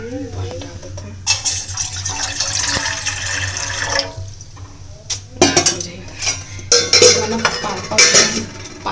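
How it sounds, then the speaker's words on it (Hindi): Water poured into a pot on a gas stove in a home kitchen, splashing and trickling in bursts with metallic clinks of the vessel, fairly close, under a steady low hum. "पानी डाल देते हैं"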